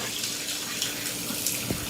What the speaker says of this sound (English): I'm just running water over just to kind of rinse it off and everything, about 30 seconds or so.